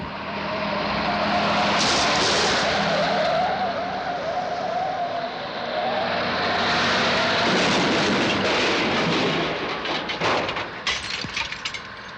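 A speeding car on a winding road, a vehicle transporter in a 1967 Captain Scarlet episode, with loud sustained engine roar and tyre squeal rising and falling, then a burst of crackling, breaking noise near the end.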